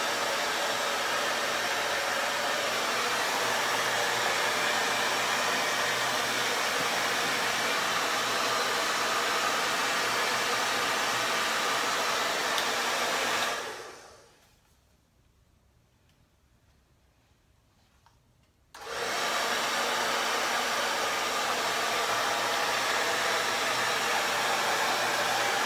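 A hair dryer fitted with a diffuser runs loud and steady while drying hair after volumizing lotion, cutting out completely for about five seconds before starting up again at the same strength.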